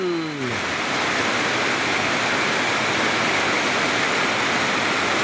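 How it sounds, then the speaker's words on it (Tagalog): Loud, dense downpour roaring steadily without pause over a fishpond, a brief tonal whine fading in the first half second. "lumakas ang ulan"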